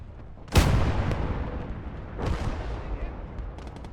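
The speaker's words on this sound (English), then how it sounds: "I believe it's 6 300mm rockets on a half track." Stuka zu Fuss half-track firing 300mm rockets in Gates of Hell, two heavy booming launches about two seconds apart with a rumbling whoosh trailing after each.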